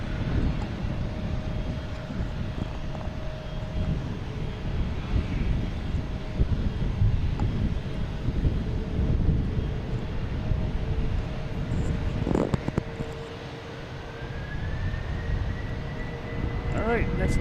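Airplane engines roar steadily in the distance at Boston Logan Airport under gusty wind noise, with a rising whine near the end as an aircraft spools up; voices talk over it.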